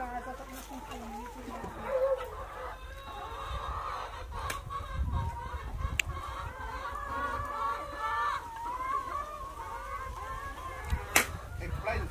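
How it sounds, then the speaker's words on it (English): Chickens clucking at their evening feeding time on Tonga, short scattered clucks and calls throughout, fairly close but quiet, heard under people chatting. "It's the chickens' dinner time."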